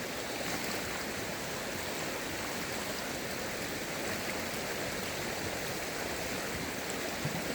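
Shallow creek water flows and burbles steadily throughout, a continuous close wash of running water with no voices over it, in a creek strewn with rubbish and scrap steel.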